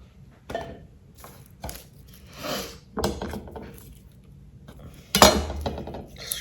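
A knife chopping an onion on a cutting board, a few sparse irregular knocks and clicks with quiet gaps between them, close and fairly soft.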